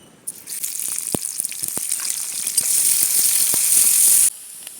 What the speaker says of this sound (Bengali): দিয়ে দেবো তেল প্রথমে দিয়ে দেবো পেঁয়াজ কুচি